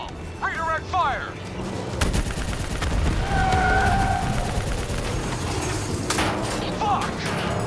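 Gunfire in the Call of Duty Black Ops 3 video game, dense sustained shooting with sharp bursts layered over a steady rumble of battle noise, with a voice briefly speaking and game sound effects mixed in.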